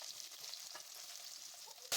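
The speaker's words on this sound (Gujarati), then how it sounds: "ડુંગળીને ગેસની ફૂલ ફ્લેમ પર 1 મિનિટ માટે સાતરી લઈશું" A soft, steady sizzle of chopped onions frying in hot oil with cloves and bay leaf over a full flame, with a sharp louder burst at the very end.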